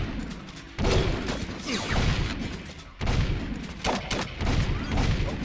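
Video game gunfire from Jak II, rapid bursts of loud shots and crashing impacts in two main volleys, dense and close with booming low thuds.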